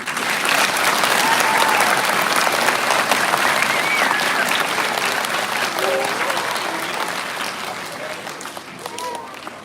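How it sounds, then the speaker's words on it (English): Dense, sustained applause from a school audience at an elementary school Veterans Day program, loud and steady for nearly ten seconds, with a few whoops rising over the clapping before it eases slightly at the end. "Let's give Mr. Brogard a round of applause."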